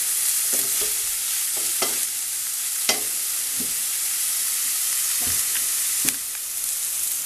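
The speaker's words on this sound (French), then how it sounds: "j'ajoute mes endives que j'ai juste coupées en deux en fait" Endives halved and dropped into a pan of coconut oil with bacon lardons, garlic and onions, frying with a steady bright sizzle and a few clinks of stirring, with no voices.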